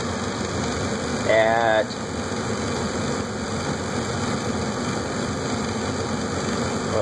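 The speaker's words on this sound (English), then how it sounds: "The inducer fan starts" A Carrier gas furnace's inducer fan runs with a steady, even mechanical hum throughout, and a voice speaks briefly near the start.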